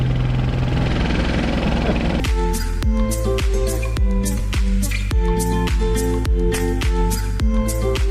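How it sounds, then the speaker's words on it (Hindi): A river tour boat's engine runs loud and close, first as a rough rumble, then settling into a strongly rhythmic knocking thump at regular intervals, with no talking. "ये भाई साहब बोट चला रहे हैं।"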